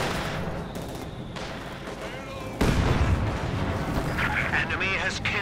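Tank and infantry battle in Company of Heroes 2, with dense rolling gunfire, cannon booms and machine-gun bursts layered together, growing louder and heavier midway, with voices talking over the fighting.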